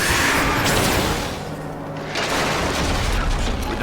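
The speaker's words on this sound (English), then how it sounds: "the catapult's firing on the battlefield" A siege catapult fires across a battlefield in Diablo 3, heard as loud, dense booming thuds and rumbling impacts that dip briefly midway and then carry on as sustained battle noise.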